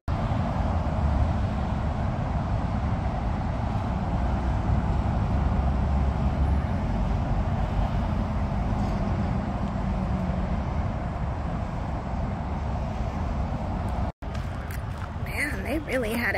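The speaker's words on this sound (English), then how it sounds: "sorry about the road noise" Road traffic from nearby Tamiami Trail beside a state park campground forms a constant, loud broadband roar of passing vehicles, continuing without a break behind a voice that talks over it.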